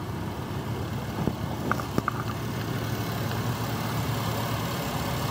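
A Chevrolet 3.4 liter fuel-injected six-cylinder engine runs at a steady idle, a low continuous hum with a few faint clicks and knocks near the start.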